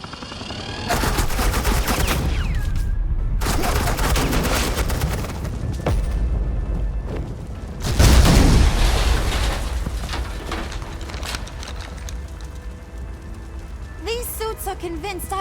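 Suppressing gunfire in the video game Batman: The Enemy Within, with bursts of loud rapid shots and booming impacts over several seconds, mixed with game sound effects.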